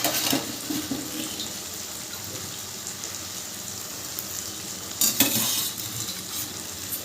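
Masala being stirred and fried in oil for a vegetarian paneer curry, a steady soft sizzle with scraping stir strokes throughout, brief louder clatter near the end.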